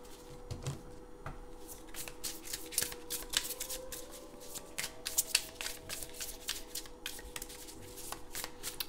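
A Super Lunaris tarot card deck shuffled close by, a continuous run of crisp riffling and papery snaps with no talking.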